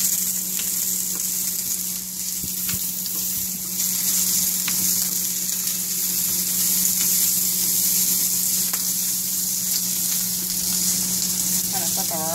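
Shrimp frying in a pan on medium-high heat for paella give a steady, close sizzle with occasional pops and faint handling noises, with no talk.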